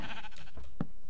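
A sheep bleats in the Minecraft video game, one short bleat standing out over steady background game ambience, with no talk.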